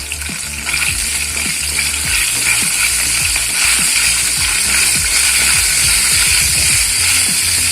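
Shallots and cumin frying in a hot pan, a loud, continuous close sizzle and crackle with faint stirring and scraping underneath throughout.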